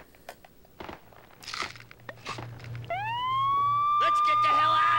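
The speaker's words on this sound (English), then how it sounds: "I'm allergic to sirens!" A police siren wails up in the Max Payne video game, rising sharply and then holding a loud, steady tone after crunchy game sounds and background noise.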